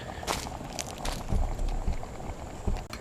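Black beans and rice with chicken bubbling in a metal canteen cup over heat, a steady low simmering patter with scattered soft pops and occasional louder bubbles throughout.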